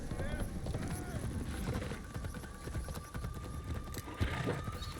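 Horse hooves clip-clopping in steady rhythm as a mount moves along in the video game Assassin's Creed Shadows, mixed with busy game ambience and a low rumble.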